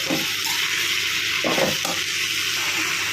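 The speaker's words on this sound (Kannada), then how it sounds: "ಈಗ ತೊಳೆದಿಟ್ಟಿರೋ ಮೆಂತ್ಯ ಸೊಪ್ಪು ಹಾಕ್ಕೊಳ್ಳೋಣ. ಚೆನ್ನಾಗಿ ಫ್ರೈ ಮಾಡ್ಕೊಳ್ಳೋಣ." Washed fenugreek leaves frying in a pan for a leafy stir-fry, a steady broadband sizzle with a couple of brief stirring scrapes, close and continuous with no talking.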